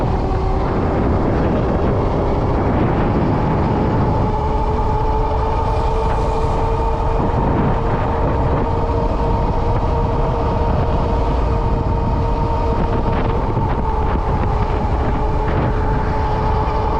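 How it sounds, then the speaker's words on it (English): A train rolls past nearby in steady, loud traffic noise with a broad continuous rumble and sustained tonal hum, heard from a cyclist's position at a crossing, with no talking. "The train just left."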